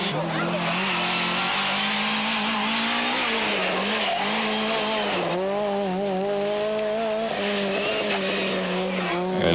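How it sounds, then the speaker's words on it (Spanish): A BMW rally car, badly damaged and running nearly on three wheels at the 1996 Rally Appennino Reggiano, drives past with a loud, continuous engine note that rises and wavers as it changes pitch. "Vean cómo llega con el vehículo cada vez peor, prácticamente sobre 3 ruedas."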